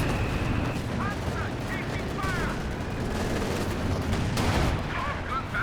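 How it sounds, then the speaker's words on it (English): Off-map anti-tank bombardment in a real-time strategy game rumbles as dense, continuous artillery explosions and gunfire, with voices faintly underneath. "Got more off-map anti-tank bombardments from Brosras."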